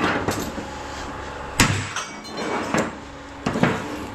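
Bolts on shop scrap being sheared off, heard as several sharp metallic snaps and clanks spaced unevenly over a few seconds against a steady workshop background.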